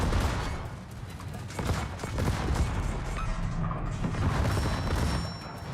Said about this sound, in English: So right now, I'm gonna fire my main guns and switch to secondaries, and I'm gonna start shooting at the Hanover.